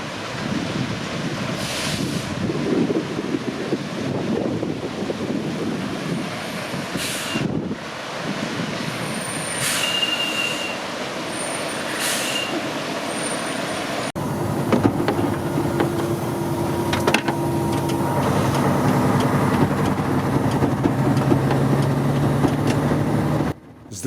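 A first-generation Mercedes Actros truck loaded with 22 tonnes of sand rumbles along with a steady engine drone and road noise, with knocks, rattles and wind buffeting, the noise growing louder and fuller in the second half.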